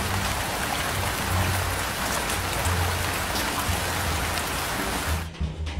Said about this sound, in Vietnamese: khi thu trực tiếp thì tiếng mưa